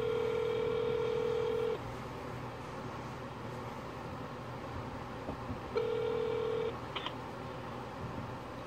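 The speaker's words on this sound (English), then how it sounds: "He's ringing here." Outgoing phone call ringback tone, two steady electronic ring bursts separated by a long pause, heard near and clear over a quiet background hum.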